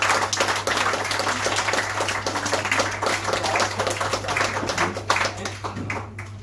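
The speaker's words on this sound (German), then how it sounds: "Und das ist einmal einen Applaus wert." Audience applause at a short film evening in a pub, a dense steady patter of many hands clapping close by for several seconds, a low hum beneath and a voice briefly heard.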